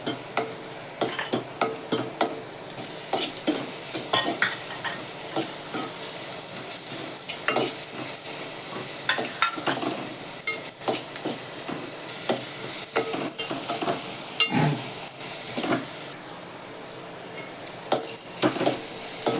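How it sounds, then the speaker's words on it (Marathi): Onion, capsicum and carrot are stir-fried briefly in a pan, a continuous soft sizzle broken by frequent spatula scrapes and clinks against the metal, close and steady throughout. "जास्त नाही भाजायचं फक्त थोडंसं कच्चेपणा त्याचा जाईल इतकंच भाजायचं कांदा शिमला मिरची गाजर वगैरे"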